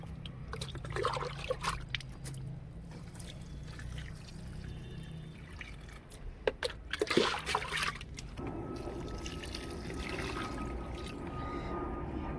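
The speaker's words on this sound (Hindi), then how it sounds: "ये देखिए इस तरह से आहिस्ते आहिस्ते किनारे किनारे से पानी डाल रही हूँ।" Water is poured slowly around the edges of a soil-filled grow bag, giving faint, close trickles and splashes that come in uneven bursts and then settle into a softer steady flow.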